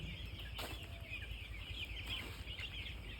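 Broiler chickens in a poultry shed, a soft steady chorus of clucks and rustling with a brief wing flap, over a constant low hum of the shed.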